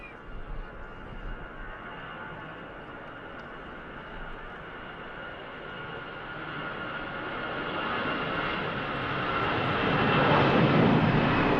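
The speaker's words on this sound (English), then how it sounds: "EasyJet on the roll." An EasyJet airliner on its takeoff roll at Manchester Airport gives a continuous jet-engine roar that swells gradually louder as it accelerates.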